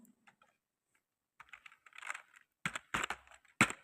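Computer keyboard typing, with a few sparse isolated keystrokes followed by denser, louder bursts of rapid clicking close to the microphone, and no voices.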